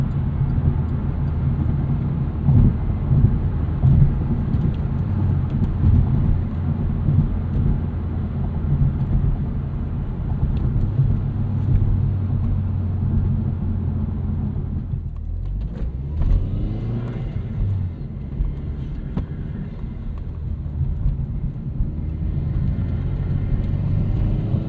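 Steady low rumble of road and engine noise inside a 2009 Chevrolet Cobalt SS Turbo cruising on the highway, broadband and continuous with a brief dip and swell partway through, no talking.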